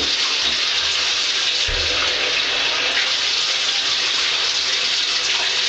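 Water from a tap or hose gushing steadily over a screen printing screen and frame during degreasing, a continuous loud hiss of spray with no break.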